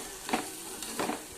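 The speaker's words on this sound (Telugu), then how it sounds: "క్యారెట్కి పట్టేలాగా కలిపేసుకోవాలి" Chilli, turmeric and coriander powder are stirred into carrots in a pan for carrot-tomato curry, a few soft scrapes over a faint sizzle, brief and quiet.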